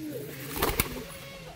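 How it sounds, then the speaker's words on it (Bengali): Young Giribaj pigeon chicks give brief, low cooing sounds close by, with a couple of sharper clicks or flutters in the middle. "গিরিবাজ পায়রার বাচ্চা।"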